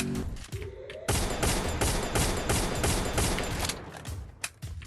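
Rapid gunfire from a Free Fire match with the Woodpecker gun skin: dense, loud volleys of shots fire almost continuously after a brief quieter opening, with mechanical clicks between bursts.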